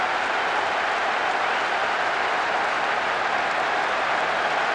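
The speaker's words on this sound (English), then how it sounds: "The capacity crowd are enjoying the goal celebration." Capacity stadium crowd in the PES 6 football game roaring after a goal, a dense, steady wash of cheering and applause that holds at the same loud level throughout, with no commentary over it.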